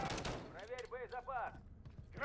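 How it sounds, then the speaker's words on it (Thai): Pistol firing in rapid bursts during a Call of Duty Modern Warfare 3 match, sharp close shots packed together with game effects and a voice talking over parts of the clip. "ปืนพกยิงรัวครับ เราชอบเลย"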